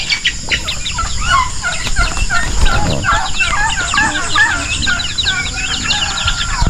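Dense farmyard poultry chorus of large turkeys gobbling and chickens clucking, with a rooster-like crow mixed in, continuous and fairly loud throughout.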